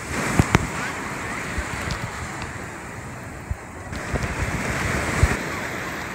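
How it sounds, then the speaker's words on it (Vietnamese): Sea waves at Da Nang beach near Son Tra mountain, a broad steady wash of surf mixed with wind buffeting the microphone, with a few sharp knocks and voices faintly present. "biển Đà Nẵng"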